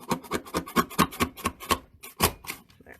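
A small paper trimmer slides and cuts away excess paper in a quick series of rhythmic rasping strokes, about a dozen close scrapes with a brief pause near the end.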